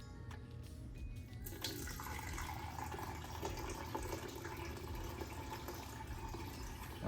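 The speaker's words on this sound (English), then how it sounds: "go ahead and keep pouring water in there" Water poured through a small cup into a nano shrimp aquarium over substrate, a steady, continuous splashing trickle heard close up with no speech.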